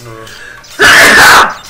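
A single loud, close sneeze bursts out after a brief spoken word during a German-language playthrough of Crash Bandicoot 3.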